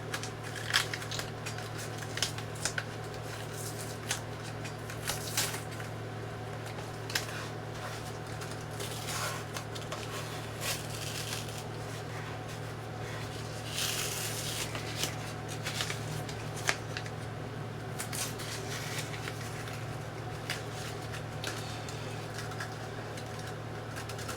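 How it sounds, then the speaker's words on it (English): Tape being peeled off the pylons of a scale model airplane, a long stretch of soft crackling and rustling with occasional sharper rips, steady and close over a constant low room hum, with no talking. "Alright, now we can pull the tape off the pylons."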